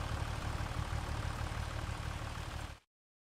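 Steady tractor engine in Farming Simulator 25, a continuous low idling rumble that holds even and loud, then cuts off abruptly near the end.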